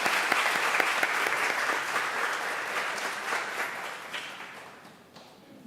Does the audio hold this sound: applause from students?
yes